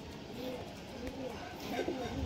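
High flyer pigeons kept at a home in Liluah, Howrah, give soft, low cooing calls nearby, faint and repeated against quiet background noise.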